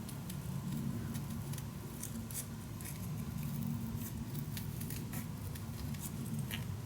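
Pieces of chipboard being cut up for a mini album, with dense, steady snipping and crisp rustling of the board at close range throughout; no talk.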